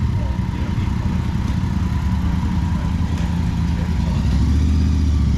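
A motorbike engine runs steadily at close range on a Sunday morning ride stop at a biker hang-out, a continuous low rumble that swells slightly toward the end.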